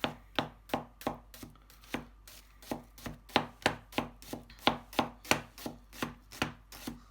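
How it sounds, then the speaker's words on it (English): Steady rhythmic knife chops on a cutting board slicing onion, about two crisp close thuds per second running without a break and with no talk. "So you use your knife to go like this, so you probably know how to cut onions."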